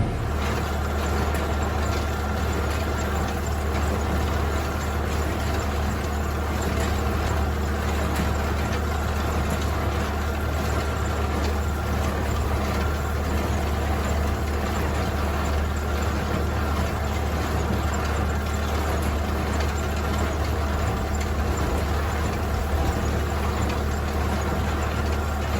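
A farm tractor idles steadily at low revs while crawling slowly through a hay field, its deep continuous engine drone loud and unbroken for the whole stretch, with no voices over it.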